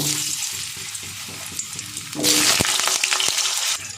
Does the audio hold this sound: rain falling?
no